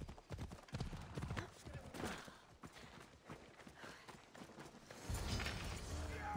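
Rhythmic hoof clatter of a horse galloping in the video game Assassin's Creed Odyssey, steady and close, with a voice talking over parts of it and a brief tonal chime near the end.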